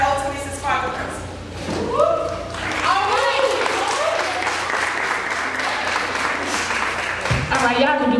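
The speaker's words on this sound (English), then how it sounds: "Let's clap it up one more time." Audience applause at a school Title I parent meeting, a broad sustained wash of clapping filling the room for several seconds, with voices talking briefly before and after.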